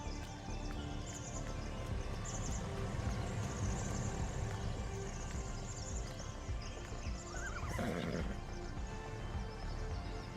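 Horses in Farming Simulator whinny and neigh over a steady bed of ambient farm noise, with a brief neigh rising near the end and hooves faintly clip-clopping throughout.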